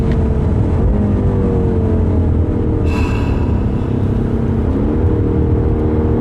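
A BMW M8 Gran Coupe engine runs hard at high RPM in a loud, steady drone that holds strong and climbs slightly in pitch, with a couple of brief shifts in tone.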